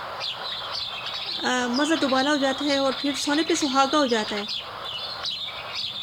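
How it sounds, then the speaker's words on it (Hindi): Birds chirp outdoors in a quick run of bright, repeated tweets near the middle of the clip while a person talks steadily throughout. "चिड़िया चहचहा रही है"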